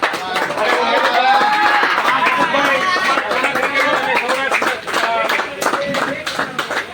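A crowd claps for the man of the match during a trophy presentation after a match, with irregular, scattered clapping that rises and falls while people chatter and talk through it.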